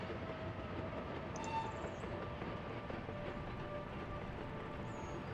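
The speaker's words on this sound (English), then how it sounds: "Slow locomotive, but that's fine." A slow video game locomotive rumbles along steadily, a continuous low rolling train sound with faint clicks and a brief high tone near the middle, no voices.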